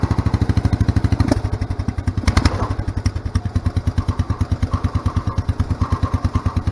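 A 10 horsepower Kohler K241 engine idles down steadily, its low, even thumping pulse running close and loud throughout with a brief clattery rise partway through.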